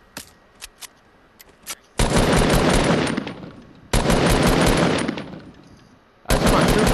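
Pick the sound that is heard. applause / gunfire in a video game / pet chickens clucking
gunfire in a video game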